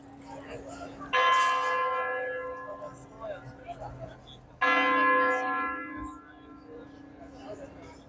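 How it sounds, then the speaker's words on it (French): Church bells ring at six in the evening in a Vosges area village, two loud resonant strikes that ring out and slowly decay, with faint voices in between. "Oh, on a le droit même au son de cloche."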